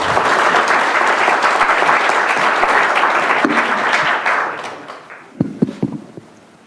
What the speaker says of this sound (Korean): 여러분의 뜨거운 박수 부탁드립니다